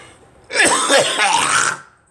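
A person gives a harsh bout of throat clearing and coughing, close and loud, in one continuous rough burst of just over a second that fades back to quiet.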